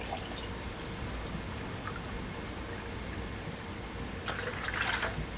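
Water poured for tea, a faint, steady trickle under room hiss, rising into a brief brighter splash near the end, with no talk.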